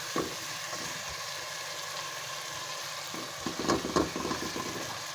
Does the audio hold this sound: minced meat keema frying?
yes